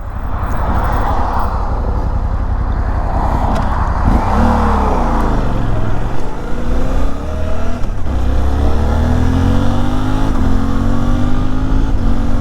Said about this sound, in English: And here's the motorway.